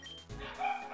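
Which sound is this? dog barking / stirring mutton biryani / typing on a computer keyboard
dog barking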